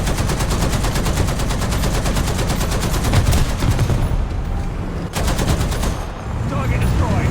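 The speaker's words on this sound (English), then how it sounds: "begin shooting at them with the 50 cals" .50 caliber machine guns firing in War Thunder, a loud rapid continuous rattle of automatic fire that briefly pauses near the end before resuming.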